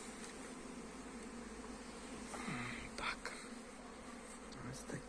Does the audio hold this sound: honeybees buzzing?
yes